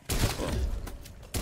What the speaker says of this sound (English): The shotgun is very effective